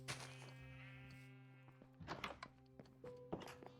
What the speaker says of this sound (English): happy birthday to all of the new sheep